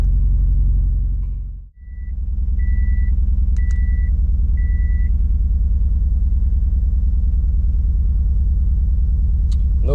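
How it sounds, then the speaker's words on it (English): Overheated car engine idling after a breakdown, a steady close low rumble with one brief dip, a few faint high beeps near the start, no voices. "Gonna let it idle for a bit, maybe a few minutes"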